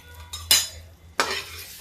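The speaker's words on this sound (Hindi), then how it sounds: "अब इसमें थोड़ा सा देखिए हम करी पत्ता डाल देते हैं" Curry leaves dropped into a hot pan of cooking oil, giving two sharp sizzling bursts close by, each fading quickly into a quieter crackle.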